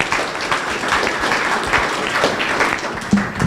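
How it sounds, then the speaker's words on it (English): Audience applause after a product career talk, a steady loud burst of clapping from a crowd filling the room, with a brief voice near the end. "Now, a round of applause for Solution Reach."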